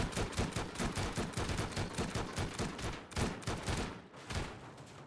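Rapid gunfire in a video game as players shoot at an enemy, dense repeated bursts of shots running loud and steady with brief gaps near the end.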